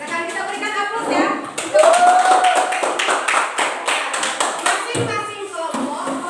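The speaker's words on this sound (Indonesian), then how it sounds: "Silakan kita berikan aplaus ya" Classroom applause for a student group about to present: a loud burst of many hands clapping, close and sustained, with children's voices talking over it.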